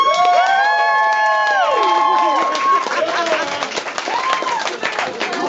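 A comedy club audience responds with applause, cheering and shouting, loud and close, with voices calling out over scattered clapping.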